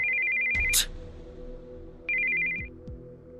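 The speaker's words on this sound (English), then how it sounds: "we heard the sound of an incoming call on a cell phone." A cell phone incoming-call ringtone in the video game Steins;Gate 0 sounds as a steady electronic tone in two bursts, one long and one shorter, clear and close, with a sharp thump and faint rumbling movement around it, no talk.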